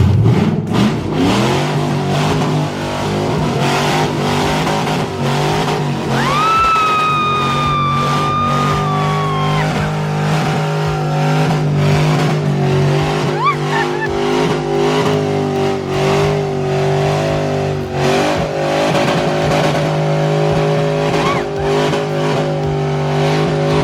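A worn-out, barely running car revs its engine inside a garage and then limps out, with a steady loud engine drone, a rising whine midway and rough harmonic rumble throughout, no talk.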